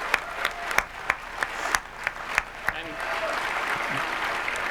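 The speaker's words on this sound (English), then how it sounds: "I'd like to give a round of applause to the developers that have worked so hard to make PS4 awesome" A convention audience at PlayStation Experience 2015 bursts into applause for the PS4 developers, starting as a few loud scattered claps over a speaking voice and swelling into dense, sustained clapping from a large crowd.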